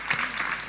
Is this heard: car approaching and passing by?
no